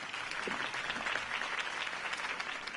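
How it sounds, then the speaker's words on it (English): Steady applause from a large crowd in the video game Telltale's Batman, dense clapping that holds at an even level throughout with no voices rising above it. "could have heard that applause"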